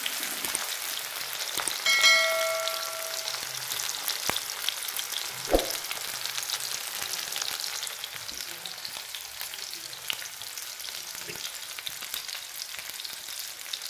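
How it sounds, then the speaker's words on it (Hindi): Sliced onion and green chilli frying in hot oil for poha, a soft, even crackle and hiss running throughout with a short metallic ping early on, close but fairly quiet. "तो ये प्याज हो गया और ये मिर्चा और बढ़िया से इसको पकाया जाएगा।"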